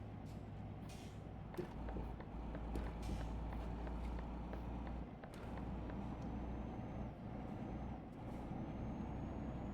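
A truck in Euro Truck Simulator 2 drones along with a steady low engine rumble, punctuated by several sharp hissing air-brake releases and faint beeps, with no talking.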